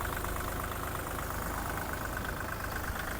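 Mitsubishi GOZ-32 Japanese mini tractor with a 32-horsepower three-cylinder turbo engine idling steadily, a continuous loud low rumble with a fine rapid knock, running alone throughout.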